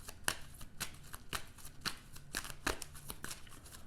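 A deck of Marvel Champions game cards is shuffled by hand in quiet, rhythmic riffles, with crisp snapping taps roughly every half second and no voices.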